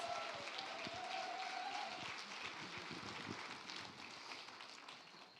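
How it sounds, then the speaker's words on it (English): A conference audience claps steadily, a dense wash of applause that holds for several seconds before slowly fading. "let's give her another big round of applause"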